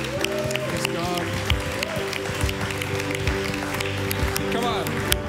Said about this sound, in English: let's give these guys a big clap